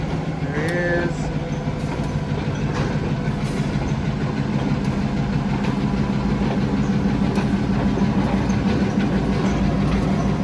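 Hamilton Northwestern railroad train departs northbound from Hamilton, a heavy diesel engine rumbling steadily and loudly with rail noise, while a voice speaks briefly over it.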